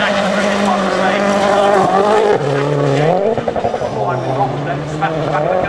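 A rally car slides sideways through a forest stage at Wales Rally GB 2010, its engine roaring loud and close with tyre scrub as the driver corrects wide, while a commentator talks over it.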